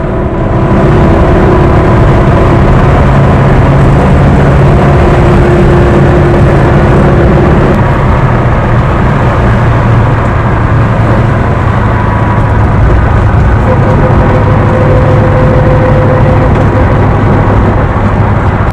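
A 1961 Simca Chambord's engine drones steadily while the car drives, a loud continuous cabin hum with shifting low engine tones and no speech throughout.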